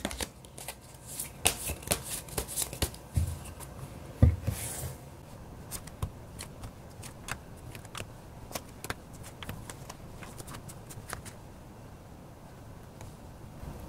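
Tarot cards being shuffled and drawn, giving a run of crisp riffling bursts and light papery flicks and taps, close and fairly quiet, with a few sharper knocks in between and no talking.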